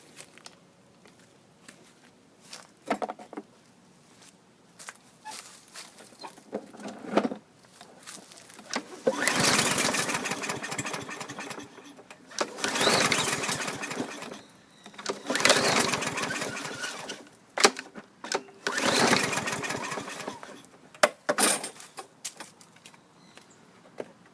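An old junk lawn mower with no air filter, pull-and-go with no priming, is yanked repeatedly, giving loud bursts of sputtering engine noise that catch briefly and die between quieter pauses.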